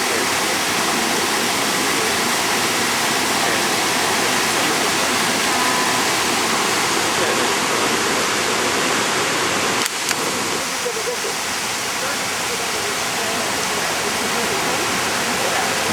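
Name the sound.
rushing river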